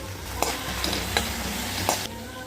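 Tender drumstick leaves, washed and squeezed, crackle in hot tempering oil with a continuous close sizzle, broken by four sharp spoon knocks against the pan as they are stirred.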